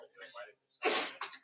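A sharp, loud sneeze bursts out in a physics classroom after a moment of murmured talk, followed by a brief second exhale.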